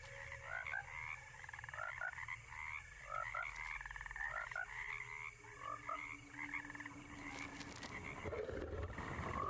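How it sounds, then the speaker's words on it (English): A frog croaks in the video game Alone in the Dark, giving rhythmic bursts of throaty croaks repeated in quick series over a humid swamp ambience with a low rumble beneath, steady and fairly close. "Hello, Mr. Frog."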